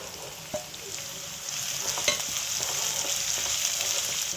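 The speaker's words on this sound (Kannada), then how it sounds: "ಈಗ ಫ್ರೈ ಮಾಡ್ಕೊಂಡಿರೋ ಅಂಥ ಬದನೆಕಾಯಿನ ಇದಕ್ಕೆ ಒಳಗಡೆ ಹಾಕ್ಕೊಳ್ಳೋಣ" Fried brinjal stirred into a pan of sizzling onions and chilies for vangi bath, a steady close crackling sizzle with soft scraping stirs and a few light clinks, no voices.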